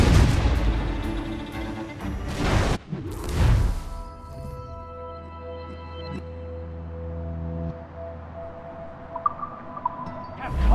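Ship cannon fire in Assassin's Creed Rogue, with two heavy booming blasts early on, then a long low rumble and a lingering tonal drone with faint distant thuds.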